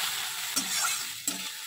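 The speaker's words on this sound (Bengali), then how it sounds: "অনেক দিন পর ঢেঁড়স ভাজলাম ডাল দিয়ে" Okra fries in a pan with a close, even sizzle, broken by two quick stirring scrapes.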